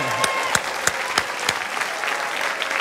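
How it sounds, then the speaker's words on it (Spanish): A studio audience at a Cuban carnival-themed comedy show claps in a brief burst of steady applause with a few sharp, distinct claps standing out. "Un aplauso para Tomasita."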